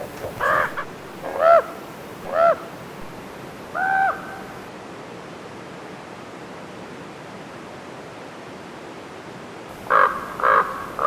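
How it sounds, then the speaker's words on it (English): Raven giving harsh, croaking caws in the wild of Yellowstone while taunting a coyote, in two clusters of three to four calls near the start and end, with a single call in between and a quiet, hissy outdoor stretch separating them. "There are taunting insults from the raven."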